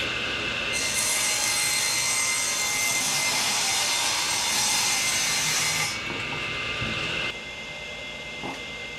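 Table saw ripping the uneven, knotty edge off a wood panel, a loud close whining cut that holds steady for several seconds, then drops to the lower hum of the spinning blade as it runs down.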